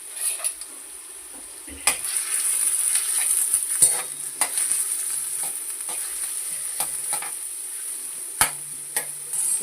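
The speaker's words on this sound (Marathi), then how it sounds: "असा हा कांदा परतून घ्यायचा तेलावर जरा आणि मग ती भाजी टाकून द्यायची." Sliced onion and green chillies fry in oil in an iron-and-steel kadai, a steady low sizzle broken by sharp spatula clinks and scrapes against the metal.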